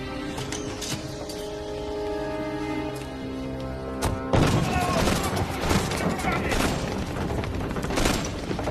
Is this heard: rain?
no